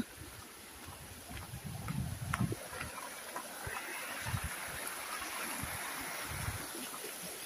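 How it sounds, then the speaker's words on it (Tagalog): A stream of running water on the way to Canding Falls in San Clemente gives a steady outdoor rush, with gusts of wind buffeting the microphone. "Pakinggan nyo yung agos ng tubig."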